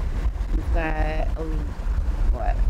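Steady wind buffets a sailboat crossing the Pacific Ocean on a beam reach, a loud continuous rumble close to the microphone, with a person speaking over it.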